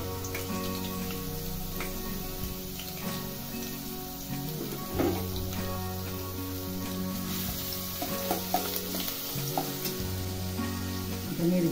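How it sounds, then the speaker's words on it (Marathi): Garlic frying in hot oil for a dry gram-leaf bhaji, a steady close sizzle with crackling bursts and occasional stirring scrapes running throughout, no talking. "आता तेल गरम झालं की पहिला लसूण टाकायचा"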